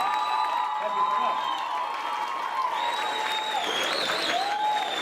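An audience at the Noored Tähed 2015 youth talent show applauds and cheers, steady clapping under sustained tonal whoops and voices that rise and swoop toward the end.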